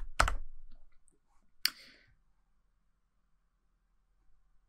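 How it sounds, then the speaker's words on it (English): Two sharp, isolated clicks from a computer keyboard as a forward slash is typed, separated by about a second and a half of near silence. "if you type in the forward slash"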